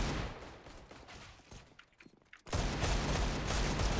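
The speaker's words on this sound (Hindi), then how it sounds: "मैंने फटाफट गोलियां चलाने चालू कर दी" Rapid gunfire in the video game Counter-Strike, dense bursts of shots that pause briefly before a loud, continuous volley resumes, close and harsh.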